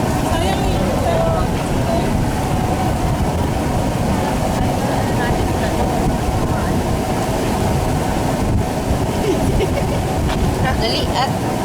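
Steady wind buffets a phone microphone outdoors at a Singapore reunion gathering, a constant loud low roar across the whole stretch with no break, drowning out any detail.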